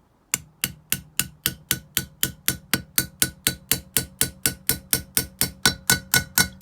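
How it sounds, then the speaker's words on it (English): Small hammer or tool tapping a valve stem seal into place on an Opel Z20LET cylinder head: about twenty-five sharp, evenly spaced metallic taps, close and clear, with a faint ringing note under each strike. "if you listen carefully, you will hear the note change when I tap on this stem seal"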